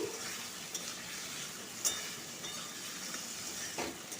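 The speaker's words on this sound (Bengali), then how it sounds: "মশলাটা ভালো করে কষিয়ে নিচ্ছি" Ground ginger, cumin, fennel, coriander and dried chili paste with sugar frying in a pan, a steady close sizzle with occasional sharp stirring scrapes and clicks throughout.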